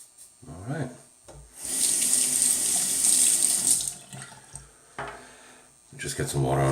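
A tap runs into a sink for a few seconds while water is splashed on the face before shaving, with brief speech and splashing before and after the flow.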